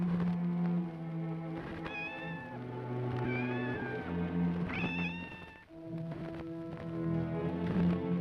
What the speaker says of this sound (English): Oh, it's only a cat.